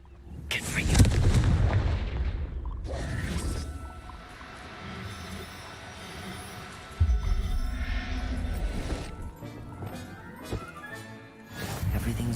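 A Confringo blast spell explodes in a video game with a deep booming burst and rumble, followed by lingering crackling debris and a second heavy impact, with game sounds and a voice nearby.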